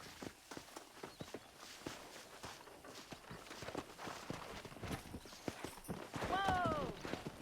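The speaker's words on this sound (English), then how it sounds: "Let's see if we can't wrangle some horses." Horses' hooves clip-clop in the Red Dead Redemption video game, a steady run of hoof strikes with a horse whinnying near the end, under ongoing background game sound.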